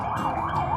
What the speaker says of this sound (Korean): 앰뷸런스 차가 지나갔습니다.